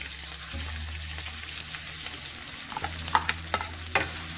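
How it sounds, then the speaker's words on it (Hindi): Finely chopped onions fry in hot ghee for a chicken korma, giving a steady close sizzle with a few soft stirring knocks and scrapes toward the end; no one speaks. "इसको मैं डाल के फ्राई कर लूँगी"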